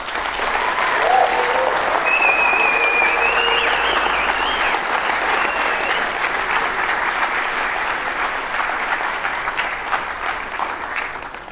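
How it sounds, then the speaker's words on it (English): Conference audience at a closing session breaking into sustained applause, a dense wash of clapping with a few whistles near the start, loud and steady before tapering slightly toward the end. "Give them a round of applause."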